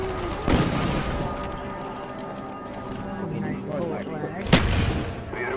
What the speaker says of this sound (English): I got killed by a SAM turret!